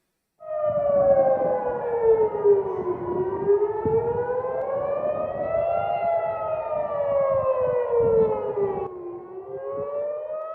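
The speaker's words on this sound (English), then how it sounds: "You can hear the sirens as Iranian missiles come by." Several air raid sirens in Jerusalem wail together during a missile attack, their pitch slowly rising and falling in long overlapping sweeps, loud and continuous after a brief silent start.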